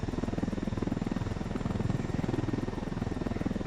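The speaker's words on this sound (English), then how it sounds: "Here we come for a perfect landing right on top of somebody's car." Helicopter in the video game Ghost Recon Wildlands, its rotor thumping in a fast, even pulse over a steady turbine whine, close and continuous throughout with no talk.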